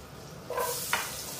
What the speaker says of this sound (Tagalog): At syempre, ang una natin ilalagay ay luya.